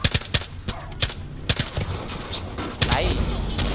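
Gunfire in the Far Cry 5 video game during a co-op session: a rapid string of sharp shots in irregular bursts, loud and close, giving way to a continuous rumbling roar near the end.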